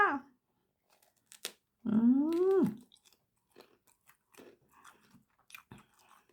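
Close crunchy bites and wet chewing of a small raw guava, intermittent and fairly quiet, with a brief voiced murmur mixed in.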